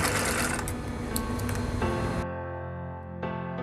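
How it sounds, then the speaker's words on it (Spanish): A sewing machine stitches a fabric face mask with a plastic insert, producing a loud, close, rapid mechanical whirr that stops abruptly, then resumes briefly. "cosemos unas puntadas y aseguramos para que no se salga el plástico. Y terminamos de coser."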